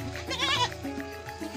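Goats bleat close by, starting with one long, wavering cry, then a few shorter, softer calls among the herd at feeding time while fermented feed is offered.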